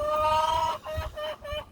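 Backyard chickens, newly arrived birds let out to free range, cluck and call in a steady stream of close, fairly loud vocalizations with brief pauses between bursts.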